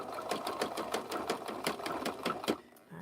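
A rattly plastic sewing machine stitches rope for a hand bag, its needle clacking in a fast, steady rhythm at close range before stopping abruptly.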